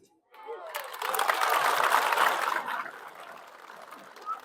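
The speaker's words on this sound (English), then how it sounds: "I'm glad you are clapping." An audience claps and cheers at a patriotism tour talk, the broadband applause swelling quickly, holding steady for a couple of seconds, then tapering off. Some voices are mixed into the crowd noise.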